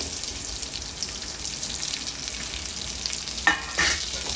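Onion and garlic sizzle steadily in a pan for mint chutney, a soft continuous frying hiss with a couple of brief clinks or stirring scrapes near the end.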